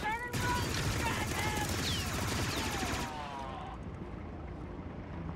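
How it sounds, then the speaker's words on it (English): Rapid blaster fire from Star Wars Outlaws rattles in a dense, loud stream for about three seconds, then gives way to quieter fading action noise. "Then we start blasting."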